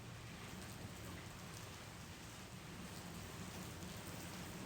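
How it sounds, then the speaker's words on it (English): Rain falls in a steady, even hiss from a sudden downpour, faint and continuous throughout with no voices. "It is raining, y'all."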